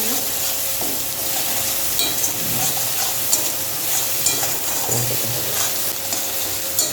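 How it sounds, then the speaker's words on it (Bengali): Food frying in a pan in a home kitchen, a dense continuous sizzle with scattered stirring scrapes and small pops, close and fairly loud throughout. "একটু ফ্রাই করে নেব।"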